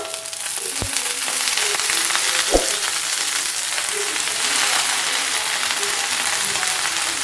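Onions and moringa leaves fry in a pan for a homemade stir-fry, giving a steady, close, loud sizzle throughout with a couple of brief utensil knocks against the pan.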